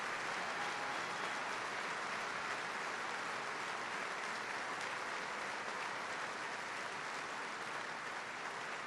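A crowd at a speech by President Trump applauds in a continuous, even wash of clapping, heard from a distance and fairly faint, with no let-up from start to finish.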